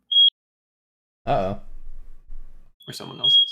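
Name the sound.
fire alarm going off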